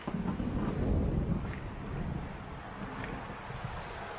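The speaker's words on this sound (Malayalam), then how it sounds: "ഇതാ ഒരു പുതിയ പ്രശ്നം എത്തിയിരിക്കുന്നു. മഴ." Steady rain hisses and rushes across the whole stretch in the GGO Football video game, with a low rumbling swell in the first seconds that then settles into an even downpour, no voices.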